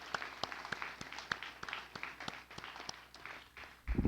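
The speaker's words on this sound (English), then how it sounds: "let's give them a round of applause" A room full of people claps steadily for several seconds, a moderate round of applause that fades out before a louder thump at the end.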